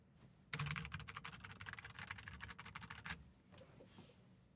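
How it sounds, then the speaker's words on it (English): Rapid, steady clatter of keys on a computer keyboard, a dense burst of typing for about two and a half seconds that then stops, fairly close, with a few faint clicks after. "Is he typing?"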